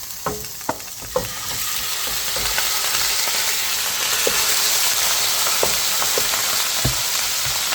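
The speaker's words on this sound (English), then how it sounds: "I'm gonna start searing the beef first" Beef searing in a hot pan for Filipino beef mechado: a steady, loud frying sizzle fills the whole stretch, with sharp clicks and utensil taps scattered through it and no talking.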